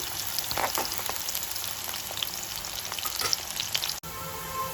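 Sliced onions with cardamom sizzle steadily in hot oil in a pan while cooking for poha pulao, a soft, even crackle with occasional stirring scrapes and a brief knock near the end.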